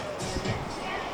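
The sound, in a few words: crowd chatter in a busy place in Canggu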